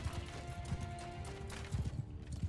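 Horse hooves clopping in Mount and Blade 2, a Realm of Thrones battle setting, faint rapid hoofbeats heard under game ambience with a few brief louder clusters.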